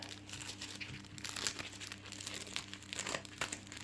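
Paper-wrapped gifts being unwrapped by hand, giving continuous close crinkling and crumpling with occasional tearing bursts over a low steady hum.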